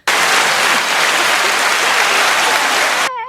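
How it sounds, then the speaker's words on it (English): A short, dense wash of applause from many hands plays loudly and steadily for about three seconds, then cuts off abruptly. "I'm going to give you an applause for that one."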